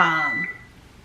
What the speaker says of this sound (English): okay, that's my stove timer